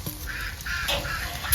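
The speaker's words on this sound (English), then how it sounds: "There's our annoying duck." A duck quacks outdoors near a charcoal grill smoker, a few honking calls strung together, moderately close over steady wind and background noise.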